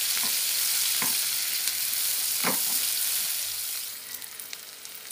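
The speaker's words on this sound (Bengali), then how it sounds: "এরপর তেলের মধ্যে দিয়ে দেবো 2টো তেজপাতা, 4টে কাঁচা লঙ্কা, দিয়ে দেবো পেঁয়াজ কুচি।" Bay leaves, green chilies and chopped onion sizzle in hot oil, a steady close crackling hiss with a few sharp pops, easing off slightly toward the end; no voices.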